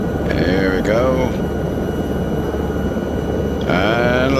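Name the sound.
helicopter flying and landing in a flight simulator video game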